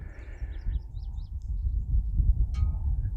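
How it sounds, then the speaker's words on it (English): Faint bird chirps and a short call ring out from a distance in trees at a Utah ghost town, over a low outdoor rumble, a few brief notes scattered across the clip. "You can hear birds that are right over in those trees over there."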